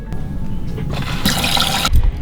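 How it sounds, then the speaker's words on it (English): A hose runs water into the fresh water tank of an Airstream RV, with a steady rushing hiss that swells louder midway and then drops off, close by. "So we're gonna fill up our fresh tank as quickly as possible while we've got power."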